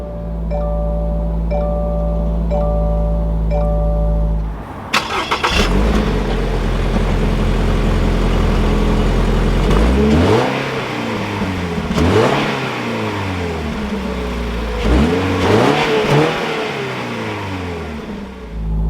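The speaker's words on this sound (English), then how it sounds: "keeping my foot on the brake, we can go ahead and fire it up" A 2022 Toyota GR86 sports car engine cranks and fires up with a loud roar, then revs repeatedly, rising and falling in several sharp bursts before settling.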